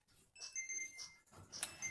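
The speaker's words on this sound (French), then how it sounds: "ne vous inquiétez pas pour le bip" Short electronic beeps from a screen-time limiter sound during a game session, with high tonal pips rising out of quiet background. No one speaks over them.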